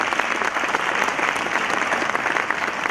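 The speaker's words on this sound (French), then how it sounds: "Tout le monde de les applaudir tous les deux." An audience at a francophone trophy awards ceremony in Abidjan applauds two guests with dense, steady clapping that fills the whole moment at a constant level.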